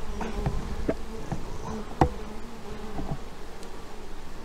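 Honey bees buzz around a hive fitted with a small entrance hole, a soft, steady insect drone with individual bees whizzing past close by at intervals, with no talk.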